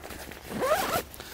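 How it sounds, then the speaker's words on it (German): A YKK double zipper on a Kelty Varicom bivy bag is pulled once in a quick, close rasping zip lasting under half a second, with nothing else around it. "habt ihr den Einstieg mit einem YKK-Reißverschluss, mit einem Doppelzipper"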